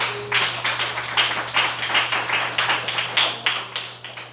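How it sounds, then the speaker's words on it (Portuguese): Church congregation applauding the Lord during a service, rhythmic clapping in a steady beat, fairly close and even, over a low constant hum. "As palmas para o Senhor."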